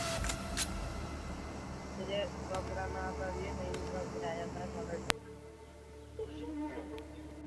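A buggy's engine in the battle-royale game PUBG drones steadily through most of the stretch, loud and close, mixed with other game sounds and a sharp click near the end.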